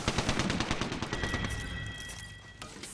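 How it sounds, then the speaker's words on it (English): Video game gunfire rattles in a dense, loud volley of rapid shots up close, thinning out after a second into scattered, quieter reports with one final sharp burst at the end. "They're shooting at me."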